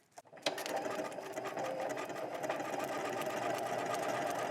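A sewing machine stitching a stretch buttonhole runs continuously after a brief start, its fast mechanical whir steady and close, with the fabric fed back and forth beneath the foot.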